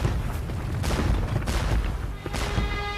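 Cannon and artillery fire boom repeatedly in a dramatized Battle of Waterloo scene, dense overlapping blasts and rumbling at steady volume with several sharp reports.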